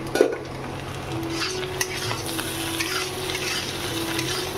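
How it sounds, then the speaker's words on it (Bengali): Egg and potatoes fry together in a pan, the potatoes already softened, giving a steady close sizzle with stirring scrapes and light utensil clinks throughout, no talking. "এখানে ডিম আলু একসাথে ভাজা করছে, আলুটা নরম হয়ে গেছে"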